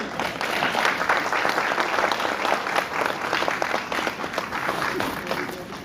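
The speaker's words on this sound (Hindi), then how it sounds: "गंगा ताली बजाते हुए" Audience applause at an indoor product training session, steady dense clapping from many hands sustained throughout, fairly loud and close with no talk over it.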